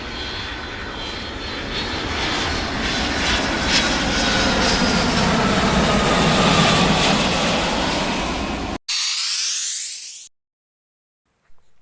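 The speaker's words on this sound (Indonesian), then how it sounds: "pesawat" An airplane flies past with a loud, steady engine roar and a broad rushing whine that holds for several seconds, then cuts out abruptly, leaving a short sweeping tone before silence.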